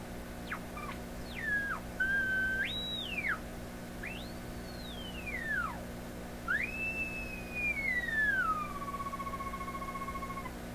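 Heterodyne whistles from a PYE 39HC shortwave broadcast receiver being tuned, a series of clear sliding tones that sweep up and down like birdsong over a steady hum, with a cleaner held tone near the end.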